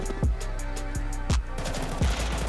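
Several loud gunshots ring out in Counter-Strike 2, a handful of sharp cracks at irregular intervals, each followed by a low boom, over steady game background noise.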